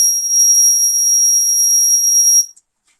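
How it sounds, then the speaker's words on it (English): A homemade door security alarm buzzer from a school science project sounds as one loud, steady high-pitched tone lasting about two and a half seconds, then cuts off abruptly to silence. "When any thief will open the door, the buzzer will ring."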